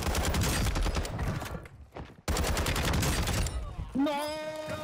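M4 rifle and X13 auto pistol fire in Warzone 2, dense rapid bursts of automatic shots in two long strings separated by a brief pause, loud and close, ending in a whistling game effect.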